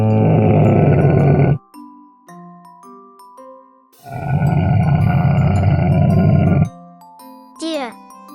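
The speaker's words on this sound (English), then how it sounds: "camel." A camel vocalizes in two loud, drawn-out groaning roars, each a few seconds long, with quieter melodic tones and a brief rising squeak between them.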